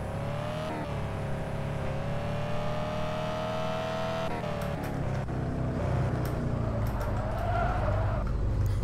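A car engine hums steadily in the driving game Car For Sale Simulator 2023, its pitch rising as the vehicle accelerates, with a constant drone and no talking.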